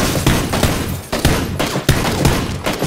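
Several bursts of rapid gunfire crackle in quick succession in the video game PUBG: Battlegrounds, loud and close, with brief gaps between volleys.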